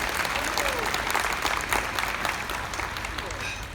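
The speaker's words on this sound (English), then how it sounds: "Clap it up, clap it up." A convention crowd at Dream Con breaks into loud, sustained applause for actress Dominique Thorne during an onstage interview, with cheers and voices blended into the continuous clapping.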